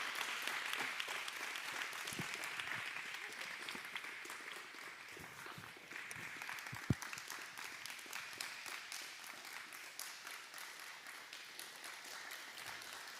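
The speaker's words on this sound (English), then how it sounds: "Round of applause for our guests." An audience claps for guests in sustained, even applause that carries on for over ten seconds at moderate volume, steady with no voices.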